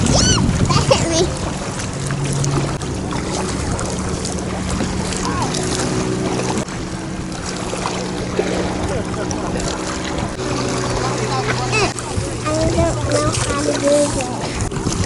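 Paddling a clear kayak off Roatan, with splashes and water sloshing close by under frequent talk from an adult and a child, plus gusts of wind noise on the microphone.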